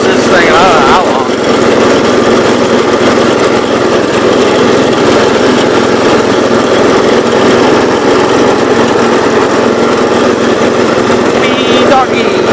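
A 1970 all-white Gravely 408 tractor engine runs loudly and steadily up close with its belt slipping, a rough continuous mechanical roar with a faint squeal, while a person talks over it.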